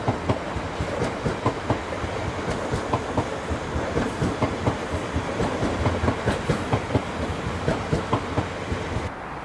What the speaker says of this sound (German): das die Regionalbahn in Richtung Darmstadt und dann weiter in Richtung Mainz-Bischofsheim, Wiesbaden